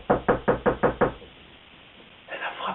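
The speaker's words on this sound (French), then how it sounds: "Elle a frappé à votre porte" Six evenly spaced knocks rap on a door in a quick steady series, close and sharp, followed by quiet and then a faint indistinct rustle near the end.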